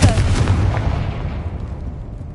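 Confringo blasting spell from Hogwarts Legacy: a loud, booming fiery burst at the start that rolls off into a fading rumble and crackle.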